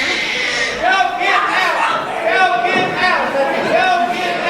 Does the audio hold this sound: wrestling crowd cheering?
yes